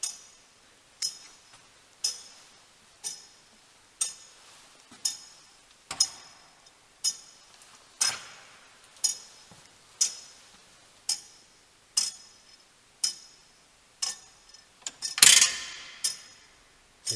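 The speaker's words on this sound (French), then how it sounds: "Et là, on écoute le tic-tac." A mechanical clock in a mountain tower at Pont de Cervi ticks in a slow, even rhythm of sharp clicks about one per second. There is a brief louder clatter near the end.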